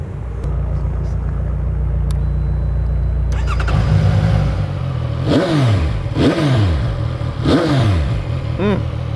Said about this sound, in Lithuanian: dabar yra pats metas paklausyti, kaip šis motociklas skamba